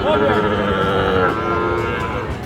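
A Sahiwal bull calf moos loudly and close, one sustained harmonic bellow filling the whole moment over a noisy cattle-market background.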